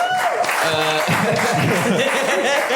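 A comedy festival crowd breaks into steady, loud applause mixed with cheers and scattered laughter, dense clapping sustained throughout the live show.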